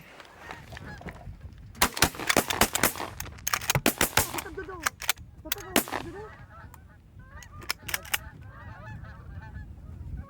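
Geese honking during a goose hunt on Lac Saint-Pierre in Québec, with loud close calls and bursts of sharp shotgun-like blasts cutting through the flock's chatter, then fainter honks continuing farther off.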